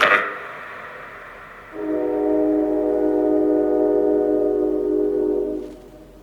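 A sustained, steady train horn blares for several seconds over a low rumble of rolling rail traffic nearby, heard inside the old Blackford County Jail, then fades.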